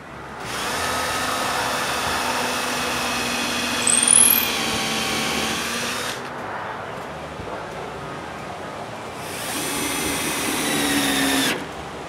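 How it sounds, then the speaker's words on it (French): A power screwdriver drives brass screws into wooden window mouldings, with a loud steady whir for about six seconds, a pause, then a second shorter run. "Ensuite, je visse les moulures avec des vis de laiton."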